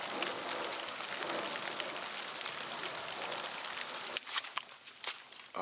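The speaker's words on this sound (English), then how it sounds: "The rain." Steady rain patters and hisses on surfaces nearby at Raccoon Creek State Park, with a few sharper drips and taps standing out toward the end.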